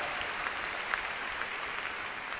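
A concert crowd at a live show in Yerevan claps in a dense, steady wash of applause, heard from among the audience and keeping an even level throughout, with no voices on top.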